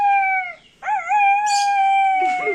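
A voice imitates a dog's howl: a loud, clear, drawn-out wavering howl that breaks briefly, then rises again and sustains, alone with no other sound.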